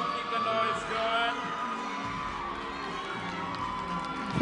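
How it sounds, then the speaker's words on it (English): A pageant audience cheers and whoops loudly at a crowning, a dense, continuous roar of many voices with shouts and yells rising above the crowd, sustained throughout. "Keep the applause going,"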